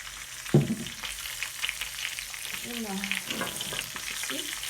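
Meat sizzling as it goes into a pan of olive oil with garlic and Provence herbs, a steady fry with a sharp burst as it hits the oil, then stirring and crackling in a home kitchen.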